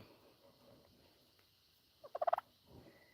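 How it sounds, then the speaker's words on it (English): A young chick tries out an immature crow, a short, faint, rising burst of rapid cracking squawks against quiet farmyard background. "these chicken chicks are just learning to make actual grown-up noises"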